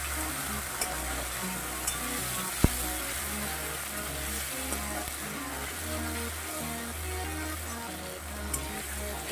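Green chilli, tomato and grated ginger fry in hot oil in a pan, a close, steady crackling sizzle with occasional stirring scrapes and a low background hum, lasting throughout without speech.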